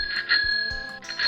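A bright bell rings repeatedly as a podcast segment cue, its clear sustained tone struck again near the start and end of the moment with light background noise.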